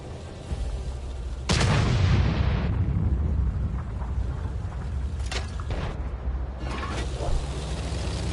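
Heavy tank gun firing in World of Tanks: a loud, close boom that bursts in sharply and rolls off over a couple of seconds, then fainter shots and mechanical clatter follow over a low engine rumble.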